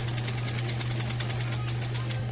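A sewing machine box-stitches a nylon strap for a leather camera wrist strap, running in a fast, even, continuous chatter with a steady motor hum up close.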